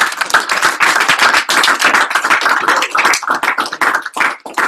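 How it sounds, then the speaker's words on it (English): Audience applause for Brian at a business group session, a dense, loud wash of many hands clapping close by, steady throughout with a slight dip near the end. "let's give Brian a round of applause"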